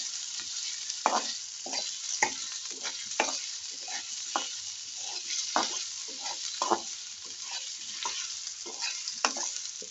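Potato pieces fry in a pan with a constant close sizzle, punctuated every second or so by sharp scraping stirs, and no one speaks.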